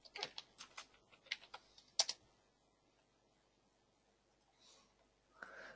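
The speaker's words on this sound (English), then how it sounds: "Here I type in the label name" Someone types on a computer keyboard, giving a short run of sparse, separate key taps over about two seconds and then near silence, quiet and close.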